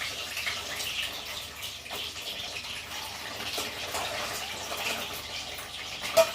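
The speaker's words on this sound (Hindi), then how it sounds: "अब मैं इसे फ्राई कर देती हूँ।" Peeled boiled eggs fry in a pan for an egg curry, giving a steady, moderately loud hiss that runs without break and without speech.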